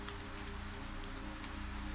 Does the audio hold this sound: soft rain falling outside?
yes